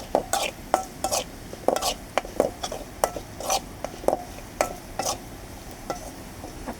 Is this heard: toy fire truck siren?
no